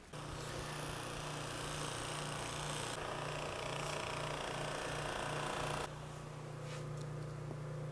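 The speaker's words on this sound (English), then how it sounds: "I'm going to get my buffer set up. We're going to buff the face of this fretboard." Electric buffer running continuously against the face of a rosewood fretboard for a set-neck Telecaster, a loud steady motor drone with a dense whooshing buffing texture that shifts slightly in tone partway through.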